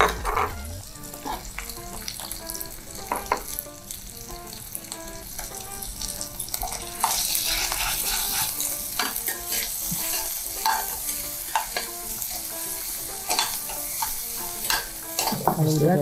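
Garlic fries in a pan for ground pork in sweet soy sauce, crackling and hissing continuously while a spoon stirs and scrapes with frequent clicks against the metal, no talk heard.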